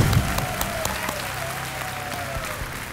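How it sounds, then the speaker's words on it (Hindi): A studio audience claps in steady applause for a female contestant on a TV quiz show, a dense even patter with a faint tone drifting underneath. "तालियां बज जाए महिमा जी के लिए।"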